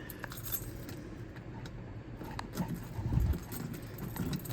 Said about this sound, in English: It's got so many keys on this key ring.